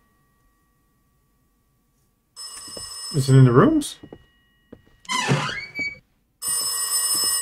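A telephone rings inside a horror video game in loud electronic bursts, first alone, then returning after a stretch where someone talks over the game.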